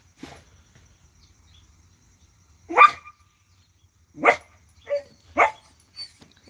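Several separate dog barks, friendly rather than aggressive, ring out one after another at moderate distance, each short and clear against a quiet background.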